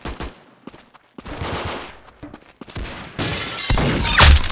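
Game gunfire from a video game headshot: a sharp burst of shots and shattering impacts, growing louder toward the end and ending in a loud crack.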